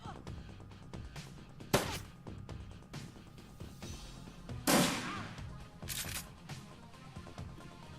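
Gunfire in the video game Shadowrun Returns, a series of sharp shots and clicks scattered over game sounds, with two louder bursts standing out, the heaviest near the middle, all at moderate volume.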